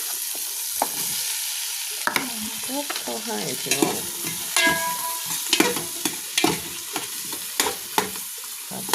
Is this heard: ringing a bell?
no